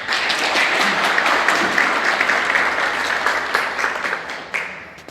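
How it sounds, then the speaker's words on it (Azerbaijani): An audience at a book launch for a doctor of art studies claps for the guests. The applause is loud, dense and sustained, then eases off gradually toward the end, with no voices. "Ona görə də hamımızdan xahiş edərdiniz ki, qonaqlarımızı alqışlayaq."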